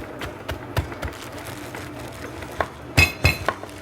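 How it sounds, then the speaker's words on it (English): Pecans being rolled and bashed to crush them, giving a run of scattered knocks and clinks that builds to several sharper, louder hits near the end, with no talking. "You just roll them like this, bash them up, and eventually you'll have nice crushed pecans."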